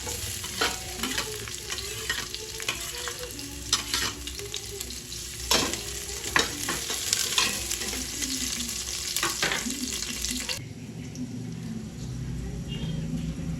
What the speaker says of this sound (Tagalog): ako po ay magigisa na nitong ating bawang sibuyas. At ito pong luya, isasabay-sabay ko na